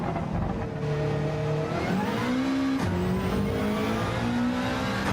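A Subaru WRX in Gran Turismo 7 qualifying practice: the engine drones and rises through the revs, dips at each gear change and climbs again, with faint tire noise and no speech.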